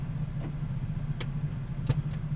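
A manual car creeps in first gear through slow traffic, its engine a quiet, steady low hum with faint ticks and clicks over it, close and even, without speech.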